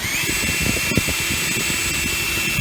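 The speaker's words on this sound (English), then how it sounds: "Now you don't force that drill bit through too fast" A power drill runs steadily, boring rivet holes in the replacement hood of a Lortone LS10 rock tumbler, a continuous close whir with faint rattling and no talk.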